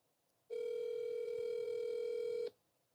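A steady telephone call tone sounds alone for about two seconds, a loud constant electronic pitch that cuts off abruptly before a voicemail greeting.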